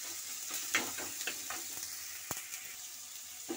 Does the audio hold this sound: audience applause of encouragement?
no